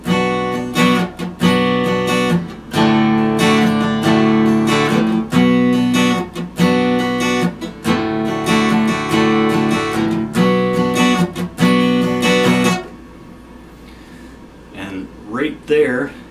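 An electric guitar strums back and forth between two chords, including an open D, in steady bursts from a song, then stops and leaves a quiet tail with faint plucked notes.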